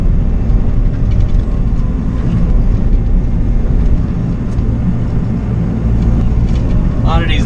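Bobcat mini excavator clearing small overhanging trees from a woodland trail, its engine a loud, steady rumble throughout with faint cracking of brush.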